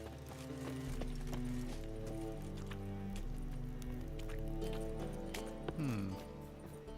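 Horse hooves clopping at a steady pace in The Witcher 3, close and fairly loud over a low musical drone, with a faint voice briefly underneath.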